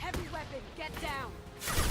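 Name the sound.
heavy weapon gunfire in Mass Effect 2 video game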